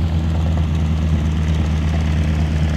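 Engines of classic and restored airplanes roar steadily at the Guthrie Edmond Airport community day, a loud, continuous low propeller drone with no pauses, close and dominant over faint outdoor background.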